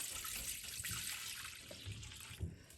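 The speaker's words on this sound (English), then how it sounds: "So now I'm going to start adding the remaining 2 cups of water" Water streams steadily into a pot of besan (gram flour) chutney while cooking, a faint, hissing pour that runs continuously and slightly fades toward the end.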